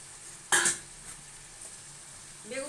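Fish-oil curry with small potato pieces being stirred in a pan, one loud scrape-and-sizzle burst followed by a soft steady frying hiss.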